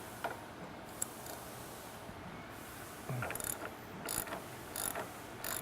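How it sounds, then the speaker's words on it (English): A ratchet wrench clicks while loosening the strut top locking nut on a 2010 Chevrolet Camaro, with faint, sparse bursts of quick ratcheting close by in a quiet garage. "Step one is to remove the retaining disc on top of the strut by removing this locking nut here."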